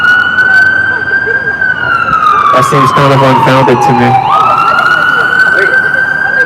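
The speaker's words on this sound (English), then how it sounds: "someone called an ambulance." Wailing ambulance siren on a city street in Minneapolis, its pitch sliding down and back up as it passes close by, loud over steady traffic noise, with a person talking over it partway through.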